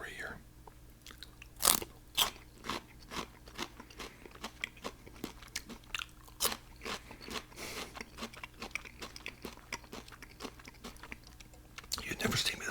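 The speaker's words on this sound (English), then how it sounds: "Got some more celery here." Crunchy celery eaten up close: a series of sharp, loud bites and crisp crunches comes at an irregular rhythm, followed by wet chewing between them, with quiet talk at times.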